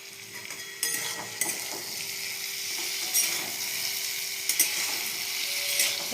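Vegetables seasoned with salt and turmeric fry in a pan without water, a close, steady sizzle punctuated by scraping stirs and clinks of the spatula against the pan, no talking.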